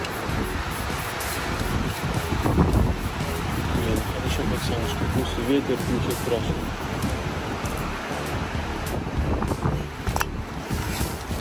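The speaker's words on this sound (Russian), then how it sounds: "Ветер, ничего страшного." Strong wind buffets the microphone outdoors in a forest near Oslo, a steady roar that lasts throughout while people talk nearby.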